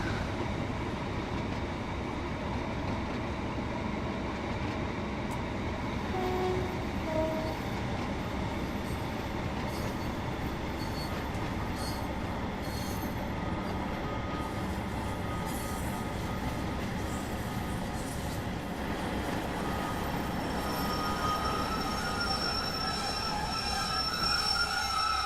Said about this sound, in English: Love the train as well. So if you are wanting the Class 150